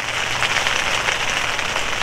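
Steady rain patters evenly on a Coleman Sundome 2P tent close by during a heavy storm, a dense continuous hiss with no pauses and no voices.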